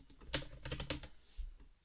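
Fingers tap out a short burst of typing on a computer keyboard, a cluster of quick, soft key clicks at close range with a brief pause before the last few strokes.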